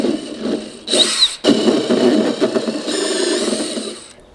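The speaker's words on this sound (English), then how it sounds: "With the step drill bit, you can go too far, and once you open up the hole too much" A step drill bit whines steadily as it bores a hole into a plastic container, loud and close, with a short pause partway through and no talk.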